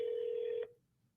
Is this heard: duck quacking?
no